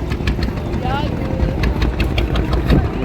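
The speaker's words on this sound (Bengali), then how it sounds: "এটা হচ্ছে লঞ্চ, এটাতেই আমরা চলে যাব মায়াপুর ধামে।" A motor launch engine chugs steadily at idle, close and loud, with voices talking over it and a brief whistle-like tone partway through, on the Ganges crossing from Nabadwip ferry ghat to Mayapur.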